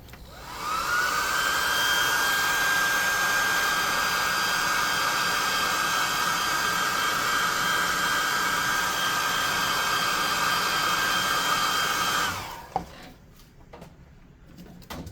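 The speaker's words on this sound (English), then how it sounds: "And I'm going to get my +2 hot air gun burning. I'm going to dry that sword up." A hot air gun drying paint on a miniature sword runs as a loud steady whining blow, steady and close, for about twelve seconds, then switches off and winds down, leaving a few soft knocks.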